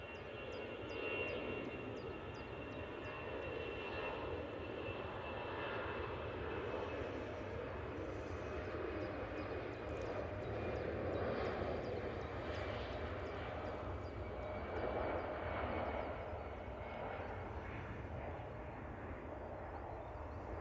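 A continuous, distant engine drone and rumble from an Aer Lingus ATR turboprop at Manchester Airport, steady and fairly faint for about twenty seconds with no talk.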